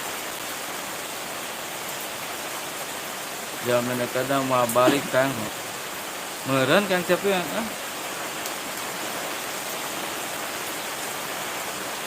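Steady rain falls outdoors as an even, continuous hiss from start to finish, while two short bursts of voices talk over it midway.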